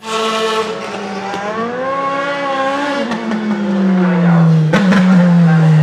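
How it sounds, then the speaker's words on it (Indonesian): A toy rally race car's engine sound screams through rising and falling revs, its pitch sweeping up then dropping into a loud, sustained drone close by. "lihat ada mobil balap rally"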